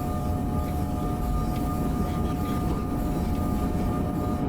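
A train in Train Sim World 4 driven at full power on the New York–Trenton line of the Northeast Corridor, a loud continuous low rumble and roar with steady tonal whine, no speech.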